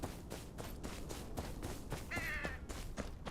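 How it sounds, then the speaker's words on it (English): A crow caws in the video game Game of Thrones Kingsroad, sounding as a series of rough, rhythmic calls repeated across the stretch over a constant ambient bed, with no voices. "I can hear the crow here."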